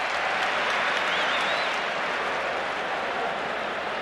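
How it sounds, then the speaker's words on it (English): A basketball arena crowd at the 1988 NBA All-Star Game applauds and cheers steadily, a dense, loud wash of clapping and voices that holds without pause from start to finish. "Traveling called against Magic, but the crowd enjoys it"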